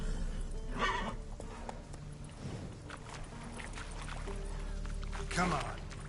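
Roach, a horse in The Witcher 3 video game, whinnies and gallops with clip-clopping hooves in two short bursts over a steady game backdrop, while a person talks over it.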